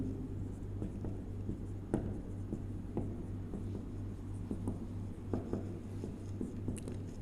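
A pen writes out a chemistry question on paper, giving soft scratchy strokes and light taps in an irregular rhythm, close and quiet over a steady electrical hum.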